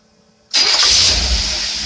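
A marine boat engine with a freshly rebuilt carburetor fires up abruptly after near silence, catching at once and settling into a loud, steady running roar close by.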